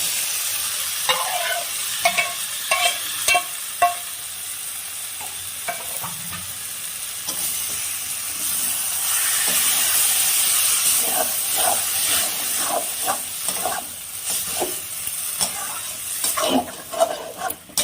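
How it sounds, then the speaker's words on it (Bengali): Boiled mung dal goes into a pan of frying spice masala, setting off a loud hiss and sizzle that swells in the middle, with scattered clinks and scrapes of stirring and no talk. "এবার আমি এই মশলাটার ভিতরে সিদ্ধ করা ডালটা দিয়ে দিই।"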